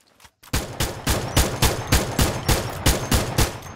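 Rapid bursts of gunfire from the mobile shooter game Free Fire, evenly spaced sharp shots repeating about every quarter second after a brief quiet start, loud and close with no talking.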